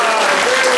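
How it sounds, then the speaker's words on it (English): Crowd applause at a political campaign rally, a loud, dense, continuous burst of many people clapping, with a faint voice or tone running underneath. "So let's give David a nice round of applause"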